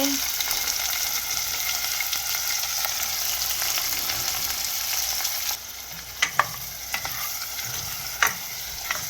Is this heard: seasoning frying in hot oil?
yes